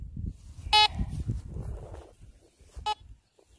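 Two short electronic beeps from a metal detector sound about two seconds apart over soft digging and scuffing noises around an old Victorian house.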